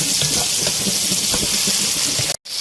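Almonds, onions and tomatoes frying together in a pan, giving a steady loud hiss and sizzle with scattered crackles, cutting off abruptly just before the end.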